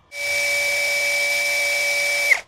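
A DongCheng DCJZ2060i cordless impact drill running on a 2 Ah battery at speed setting 2 gives a steady, loud high-pitched motor whine that holds evenly for about two seconds, then drops briefly as it stops, with no talk.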